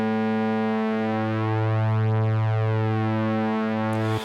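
A sustained synth pad on a Novation Bass Station with one oscillator slightly detuned, giving a steady drone with slow beating and phasing, loud and alone for about four seconds.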